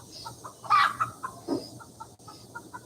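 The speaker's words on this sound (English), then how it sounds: "Well, the roosters are acting up, or the chickens are acting up." Chickens and roosters cluck in short bursts at close range in Uvita, Costa Rica, with a louder squawk partway through and scattered softer clucks continuing around it.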